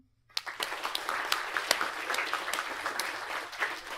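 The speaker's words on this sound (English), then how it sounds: "Quick clap for Sam and Aga, who organised the Mapthathon." A crowd at a mapathon event in London breaks into clapping, a dense, steady patter of many hands that holds for a few seconds.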